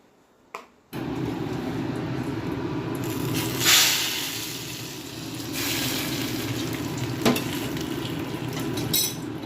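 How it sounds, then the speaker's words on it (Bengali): Cumin, dried red chilli and bay leaf hit hot oil in a pan for a khichuri tempering. A sudden loud sizzle follows a second of quiet, then settles into steady close frying with occasional sharp utensil clinks. "আগে খিচুড়িতে একটু ফোড়ন দিয়ে নিই জিরে শুকনো লঙ্কা তেজপাতা একটুখানি ভালো করে ভেজে"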